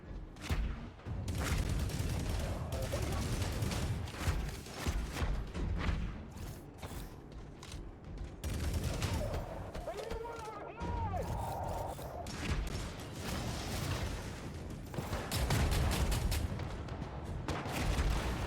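Rifle fire in the mech shooter Hawken Reborn, with an infantry sniper on the battlefield. Repeated loud shots and booms with mechanical thuds form a steady, busy barrage, dipping briefly midway.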